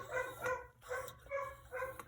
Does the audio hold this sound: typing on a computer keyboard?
no